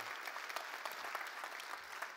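A church congregation claps during a sermon, a quiet but dense wash of steady applause from a large room, without pause.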